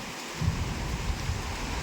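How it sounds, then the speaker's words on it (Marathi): Rain starts to fall in a village as a steady broadband hiss, with a few low thumps from drops hitting a nearby surface, and no voices. "गावात आज पहिल्यांदा पाऊस पडलेला आहे. आणि बघा आत्ताशी सुरुवात झाली."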